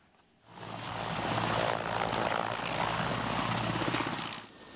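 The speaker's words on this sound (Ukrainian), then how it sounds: "Це один з транспортно-ударних вертольотів операції об'єднаних сил." A military transport-attack helicopter of the Joint Forces Operation fills the scene with a loud, steady rotor and engine roar that swells in after a brief quiet start and holds close throughout.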